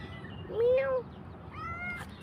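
A single cat meows once, a clear rising-falling call close to the microphone, followed by a fainter second mew over low background hum.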